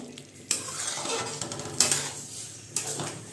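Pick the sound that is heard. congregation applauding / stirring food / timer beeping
stirring food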